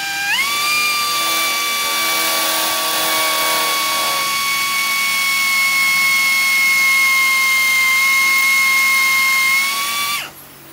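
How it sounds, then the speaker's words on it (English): A power drill drilling out a rivet on an RV-10 aircraft, a loud, steady high whine that rises as it spins up, holds for about ten seconds, then cuts off abruptly. "we're just going to drill it out."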